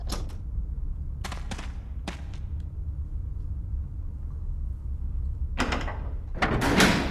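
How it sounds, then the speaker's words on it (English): A door in a Resident Evil game unlocks and opens, with a few sharp mechanical clicks and clunks early, then a louder grinding, creaking burst near the end over a steady low ambient rumble. "It made the unlock sound when the door was already unlocked"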